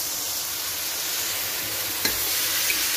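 Instant noodles fry in a pan with a loud, continuous sizzle. A splash of soy sauce and a brief stirring clack break the hiss partway through.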